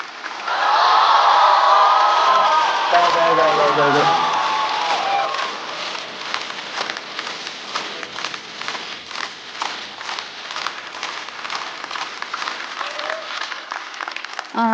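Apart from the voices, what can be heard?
audience applause and cheering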